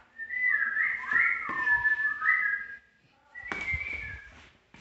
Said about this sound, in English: I hear whistling.